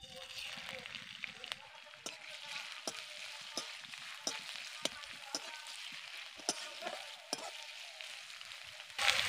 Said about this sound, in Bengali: এবার আমি কেটে রাখা পেঁয়াজ দিয়ে দিচ্ছি।